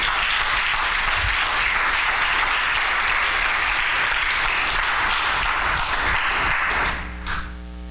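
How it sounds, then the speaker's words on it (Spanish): Loud, sustained applause from a large congregation at a church sermon, steady clapping throughout before fading near the end. "Denle un aplauso fuerte al Señor."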